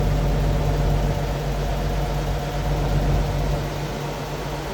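A Toyota FJ40 engine idles steadily up close, a continuous low rumble with a dense, even hum and no talking.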